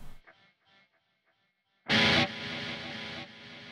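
Faint picked guitar notes give way to a sudden loud burst of Quad Cortex circular delay, a bright, dense processed swell that settles into a sustained layered tail.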